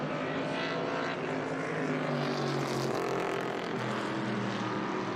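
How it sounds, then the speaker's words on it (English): A 1970 Boss 302 V8 race car at Laguna Seca roars past in a loud, continuous engine blare that swells and shifts pitch as it goes by. "it was just a great sound to hear those V8 engines coming through."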